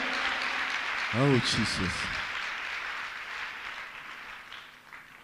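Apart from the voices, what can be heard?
audience applauding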